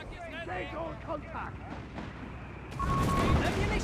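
Mortar half-track firing in a Company of Heroes 3 desert battle, a heavy booming report breaking out partway through and rumbling on loudly, with a commentator talking over the earlier part.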